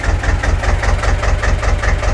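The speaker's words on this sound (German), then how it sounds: "Der Motor läuft." A farm tractor fitted with a Fritzmeier cab cover idles close by, a loud, steady low diesel throb with a fast regular pulse and no voices.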